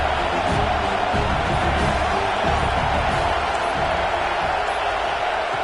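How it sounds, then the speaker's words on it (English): A dense, steady roar from a stadium crowd at a Florida versus USC college football game fills the space, loud and unbroken, like distant massed voices. "This crowd ready to make its presence known."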